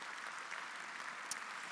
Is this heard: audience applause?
yes